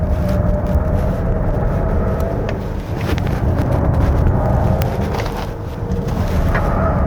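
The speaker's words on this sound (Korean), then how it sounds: "물론 타이어는 지금 계속 소리를 내요." A 2025 Volvo XC60 B6 AWD cornering hard on a winding mountain road, with a steady low roar of tyre and road noise and a faint, continuous tyre hum blended with wind rush throughout.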